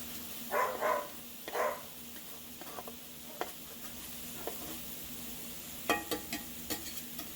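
Chopped yellow onion cooks in bacon grease with a soft, steady sizzle, broken by a few brief scraping stirs and clicks of a utensil in the pan, fairly quiet and close.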